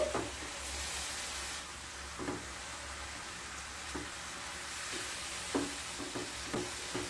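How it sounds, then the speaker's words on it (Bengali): Radish frying over high heat in a pan, a dense continuous sizzle with a handful of spatula scrapes and taps spread across it, close and steady with no speech. "হাই স্টিমে মূলোগুলোকে খুব ভালো মতো ভেজে নিতে হবে"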